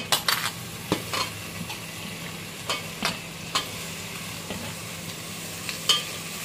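Tomatoes and onions are sautéed in a pan, with a steady background sizzle and frying crackle broken by close, periodic scrapes and clacks of a stirring utensil against the pan.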